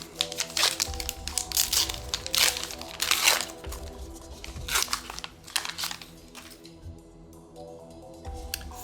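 Foil booster pack for the Star Wars Unlimited card game, Set 5, torn open and crinkled by hand, with repeated close crackling bursts of wrapper and card handling spread across the clip.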